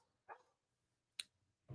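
A dog barks in the background, three short, sharp, faint yaps spaced apart over near silence.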